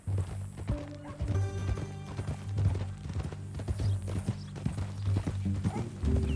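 Horse hooves clip-clopping in the video game Red Dead Redemption 2, an irregular run of clear hoof strikes at a walking pace over a background music bed.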